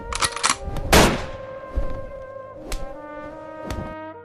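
Gunshot sound effect: several sharp cracks in sequence, one much louder burst near the start, with a sustained tonal drone ringing underneath and no voices.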